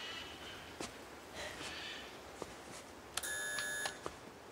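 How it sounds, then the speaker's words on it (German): A doorbell chimes once at a Munich residence during a police visit, a bright sustained ding-dong tone lasting under a second, preceded by faint footsteps and soft shuffling in a quiet setting. "Magst du vielleicht klingeln?"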